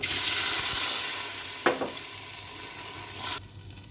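Sliced onion frying in hot oil in a pan for a chicken and vegetable pilaf: a steady loud sizzle close up, broken by a couple of scraping stirs of the spoon, before the sizzle cuts out abruptly near the end.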